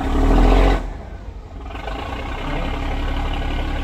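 A boat's engine roars loudly at first, then drops to a steady lower running hum while the boat sits on a slipway during a propeller shaft replacement.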